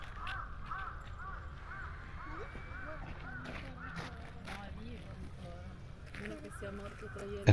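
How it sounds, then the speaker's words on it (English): Crows caw repeatedly in a quiet Yokohama garden, the calls coming at a middle distance over a soft steady ambient hiss, with faint voices murmuring nearby. "we just heard the birds"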